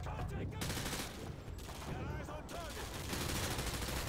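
Dense video game gunfire from Call of Duty Modern Warfare 2, a steady barrage of shots and bursts packed tightly through the whole stretch, loud and continuous with no clear gaps.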